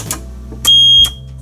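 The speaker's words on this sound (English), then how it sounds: "Forgot I put an annoying beeper on that." An elevator button panel with an added beeper gives a short tap followed by a loud, shrill electronic tone lasting under half a second, heard up close indoors.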